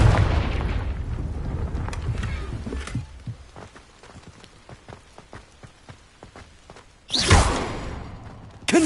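Confringo fire-spell explosions in the Hogwarts Legacy video game: a loud blast fading into a long run of sharp crackling pops, then a second heavy burst near the end.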